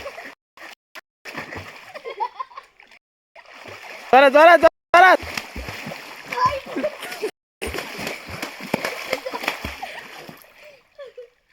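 Water splashing in a playful water fight, with bursts of splashes and sloshing between excited children's shouts and chatter, close and fairly loud.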